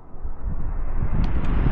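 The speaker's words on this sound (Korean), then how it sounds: "선풍기 바람." An electric fan blows air straight onto an action camera's built-in microphone, producing a loud, steady, rumbling wind buffeting with no voices.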